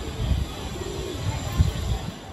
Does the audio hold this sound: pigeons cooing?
yes